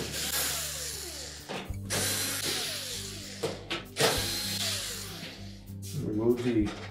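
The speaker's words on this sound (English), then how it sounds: "we'll next remove the screws that secure that panel to the back of the range" A power drill backing screws out of the rear panel of a GE range, several short whirring bursts with ratcheting clicks, close up and separated by brief pauses.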